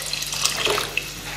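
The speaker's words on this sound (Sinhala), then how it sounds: "මම දැන් වතුර ටික තව දානවා මේකට." Water poured into a pot of rice for cooking, a short steady splashing gush with small droplet accents, close and moderately loud, with no talking.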